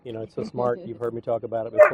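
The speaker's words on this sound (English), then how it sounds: "That's my dog." Pet dog Sadie barks in short yips and whimpers, close by and fairly loud, mixed under a person talking while potatoes are cut on a grill.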